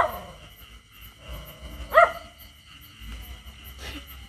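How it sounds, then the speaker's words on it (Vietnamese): A single dog bark rings out at night near a fishing spot, one short clear burst mid-clip, somewhat distant, with faint background hum and no talk. "Chó sủa quá."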